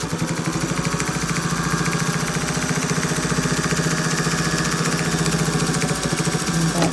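A sewing machine stitches a quilt seam on a black and white quilt-as-you-go project, giving a loud, steady, rapid mechanical whir with a fine rhythmic pulse throughout, and no talking.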